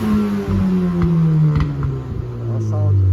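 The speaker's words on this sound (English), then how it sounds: "Matty, just want to just give that a rev one more time?" A 300 BHP Ford Fiesta engine idling loud and close with a deep steady drone, blipped up briefly in short revs with a few clattery pops, all without speech.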